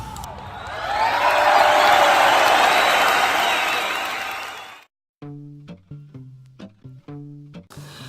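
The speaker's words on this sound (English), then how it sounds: "You also deserve my applause." Applause from a crowd, a dense wash of clapping that swells for about four seconds, then fades and cuts off, followed by a voice speaking alone.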